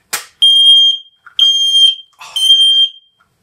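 An X-Sense XS01-WR wireless smoke alarm goes off during a button test, giving three loud, piercing beeps about a second apart, close up, after a brief click.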